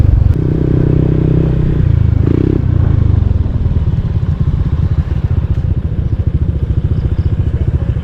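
Several motorcycles idle and rev at a riders' breakfast stop in the hills, a steady close engine rumble with harmonic tones early on, then a rapid throbbing idle that carries on to the end.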